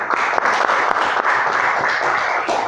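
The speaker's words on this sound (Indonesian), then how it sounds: "Kasih aplaus buat kelompok A." A classroom group claps for group A, dense applause of many hands at close range for a few seconds.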